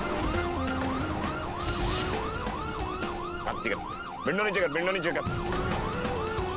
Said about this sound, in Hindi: पुलिस का सायरन सुनाई नहीं दे रहा है क्या?